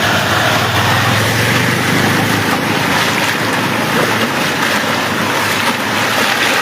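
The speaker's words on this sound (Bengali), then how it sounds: "পানির প্রচুর স্রোত" Strong floodwater current rushing across a road in Feni's Chhagalnaiya, a loud continuous roar of moving water with wind noise, no speech.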